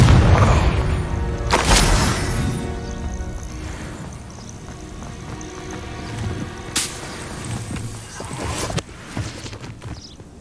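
Hogwarts Legacy spell combat brings a deep booming blast up front, then scattered impacts and sharp bursts over rumbling game ambience. A few strong explosive hits stand out in the middle and later.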